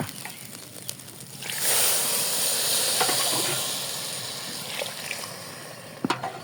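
Water poured onto hot sautéed rice and lentils for khichuri cooking over a clay stove, bursting into a loud, sustained steam hiss that gradually eases, with a few sharp utensil clinks at the end.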